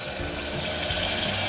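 Water poured from a mixer jar still coated with ground spices into a cooking pot, a steady close wash of liquid running without a break through the short stretch, with no talking.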